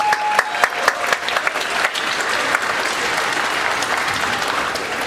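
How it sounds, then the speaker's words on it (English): At a school luau fundraiser an audience applauds the students. It opens with a few crisp individual claps, then swells into a full, sustained wash of applause that stays loud and even. "So how about a round of applause for the students?"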